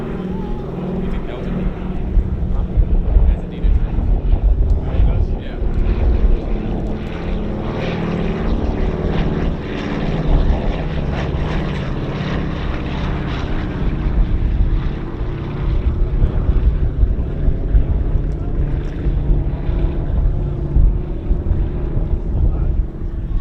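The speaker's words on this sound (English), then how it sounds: "Wildcat, coming across the field." A WWII Wildcat fighter passes over the field at a World War II weekend show, its propeller engine a loud sustained drone with wind buffeting, while an announcer talks over it.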